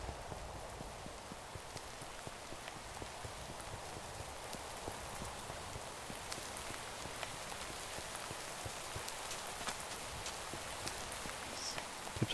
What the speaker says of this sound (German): Ih, es regnet ja.